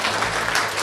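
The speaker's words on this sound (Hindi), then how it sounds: "तो इस सुंदरता के लिए भी ताली बजाइए भाई।" Audience applause from a crowd at a live stage comedy event, dense steady clapping filling the brief moment, loud and close with no pause.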